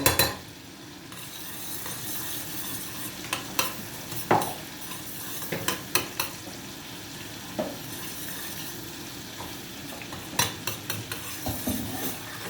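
Garlic in hot oil for Turkish manti, a soft steady sizzle with frequent close clinks and scrapes of a utensil stirring against the pan, no talking.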